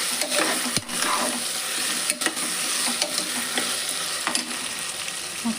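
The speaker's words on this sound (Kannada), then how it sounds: "ಎಣ್ಣೆ ಒಳಗೆ ಫ್ರೈ ಆಗ್ಲವು." Vegetables fry in oil for vegetable pulao while being stirred, a continuous close crackling sizzle marked by several sharp scrapes and knocks of a spoon against the pan.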